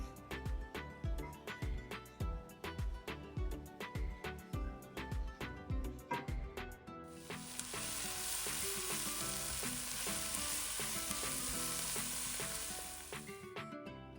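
Cumin seeds and onions hit hot oil halfway through, a sudden loud continuous sizzle close by, after a stretch of rhythmic music.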